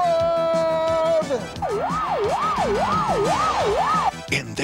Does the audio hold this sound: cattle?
no